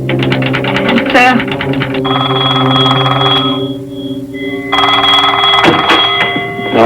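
An old-fashioned telephone bell rings loudly in repeated bursts inside a sheriff's office, its rattling peals filling the room alongside a steady hum and some background voices.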